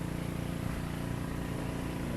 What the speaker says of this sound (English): Excuse the noise, but the pump's running.